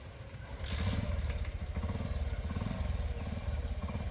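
Motorcycle engine running close by with a rapid, steady putter and a brief rise in revs near the start, loud and continuous with no talk.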